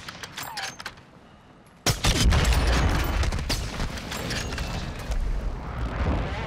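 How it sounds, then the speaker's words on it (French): Dense gunfire and booming impacts in Warzone 2, starting sparse with a few distant shots, then erupting into a loud, continuous barrage of overlapping shots and blasts that carries on to the end. "Ça me tire dessus à droite."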